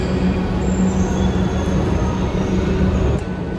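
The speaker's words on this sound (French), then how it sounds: "Là, on est dans le métro." Inside a moving metro car, a constant low rumble of wheels on rails fills the space, with a steady hum, faint high squeals and clatter, no voices.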